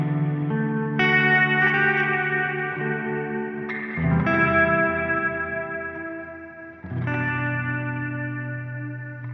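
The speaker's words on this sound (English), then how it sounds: "So a nice ambient pad." A lush ambient pad of sustained guitar chords through a Meris LVX pedal drenched in heavy reverb and echo, shifting chords every few seconds and swelling into a wide, shimmering wash.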